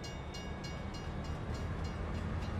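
Train rumbling past a level crossing in Farming Simulator 22, a steady low rolling drone with faint rhythmic clatter, heard alone without talk.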